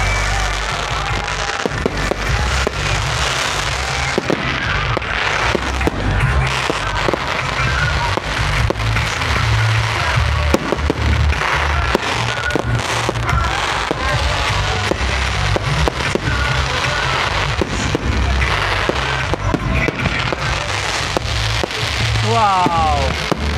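New Year fireworks crackle and pop in rapid, dense bursts for the whole stretch, loud and close, with crowd voices mixed in.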